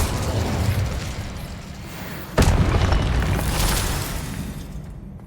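Fiery Incendio spell blasts in Hogwarts Legacy combat: a sharp boom bursts out midway over a low rumbling bed, followed by crackling, shimmering magical noise that slowly fades.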